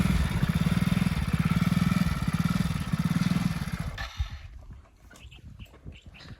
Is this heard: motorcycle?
yes